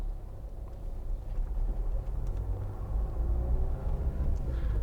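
A 2013 Nissan Note 1.5 dCi diesel pulling away, with a low engine and road rumble that swells gradually under a faint wash of cabin noise.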